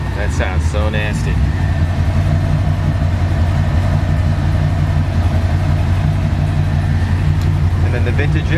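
A 1969 Chevrolet Camaro SS with a 427 V8 and four-speed idles steadily and fairly loudly throughout, a deep continuous rumble with brief voices at the start and end.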